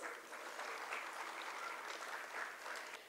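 Audience applause at a school annual showcase fills a hall, a steady wash of many hands clapping at a distance, fairly soft, with no voices over it.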